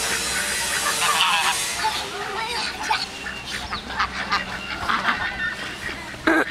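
Geese honk repeatedly up close, harsh nasal calls coming in uneven bursts over a noisy outdoor background.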